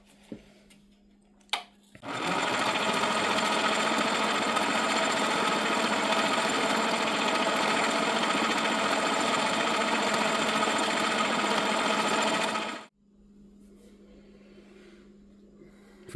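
A small metal lathe on a Gingery coil winder build makes a cut with a steady, loud grinding whir that starts abruptly, holds for about eleven seconds, then stops, leaving a faint hum.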